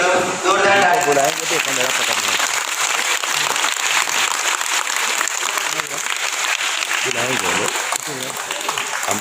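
Loud, sustained audience applause fills the whole stretch at a welcome ceremony during a children's supplies distribution event at Gaganagiri Ashram in Manori, with voices talking over the clapping throughout.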